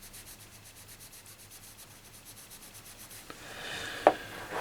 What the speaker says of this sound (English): Just give it a little rub with the cloth.